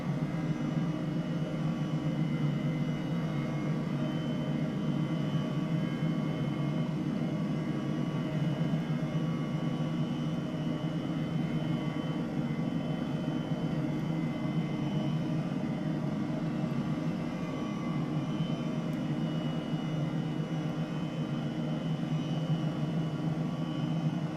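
Steady, droning engine hum with a low rotor-like rumble of an H135 helicopter in a flight simulator game, continuous and unchanging throughout, with no voices.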